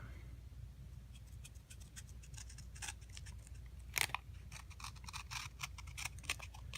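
Scissors snip a tiny strip off a playing card, a close, quiet run of dry crisp clicks and slicing rasps with one sharper snap midway, set against a low room hum.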